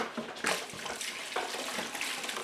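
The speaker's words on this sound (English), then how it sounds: "We're just going to cover this with water." Water poured from a jug into a pail to cover parsnips and rutabagas, a steady splashing gush with uneven bursts, close and continuous throughout.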